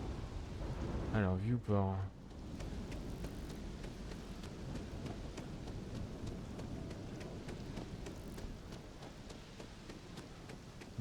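Steady rain and rolling thunder from the video game Starfield, a dense continuous hiss with low rumbling beneath, while a voice speaks briefly near the start over the constant downpour.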